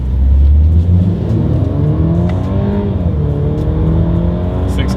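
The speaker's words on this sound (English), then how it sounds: "let's see how quickly we can get our new C300 here up to speed" A 2022 Mercedes-Benz C300 accelerates hard from first through paddle-shifted gears, the engine note climbing loudly and then dropping at each shift in a strong, close in-cabin roar.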